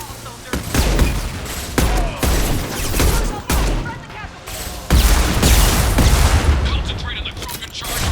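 Rapid gunfire bursts and explosive booms from combat in the video game Mass Effect 2, loud and dense throughout, with sharp attacks and a heavy low rumble, mixed with game voices and effects.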